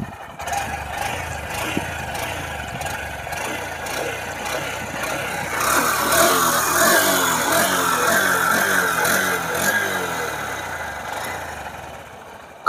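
A Honda SP 125 motorcycle engine revs up, the pitch and loudness climbing midway and then holding as the throttle is opened, close by.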